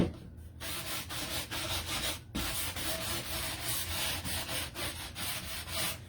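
Paint being sanded off a wooden Santa sign: close, steady rubbing strokes in a quick back-and-forth rhythm with a few brief pauses, no voices.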